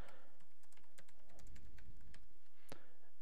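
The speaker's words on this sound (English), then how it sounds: "Okay, so you can see that we can type information into this area," Steady typing on a computer keyboard, a rapid run of close, crisp key clicks with no talk.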